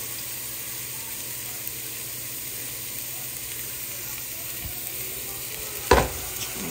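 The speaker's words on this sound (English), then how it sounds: "So we're gonna add this to the pan right now. And we're gonna have these saute for about 4 minutes." Garlic sautéing in a pan for fagioli soup, a steady soft frying hiss with light stirring throughout and one brief louder clatter near the end.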